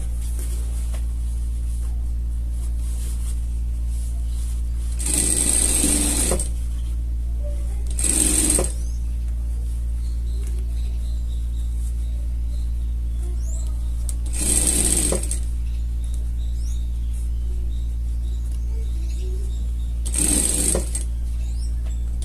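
A sewing machine stitches a collar onto a small denim jacket for a pet, in four short bursts of fast needle chatter separated by quiet pauses, over a steady low electrical hum.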